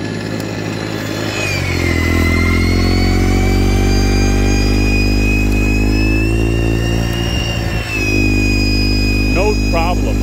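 A Troy-Bilt gas two-stage snow blower engine runs steadily at close range while clearing snow, with a constant loud drone and a slight pitch shift as the gear changes.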